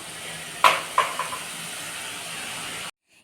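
Dough for a fried snack is pressed into boiling oil, giving a steady close sizzle and hiss with a few sharp spattering pops early on. The sound ends abruptly.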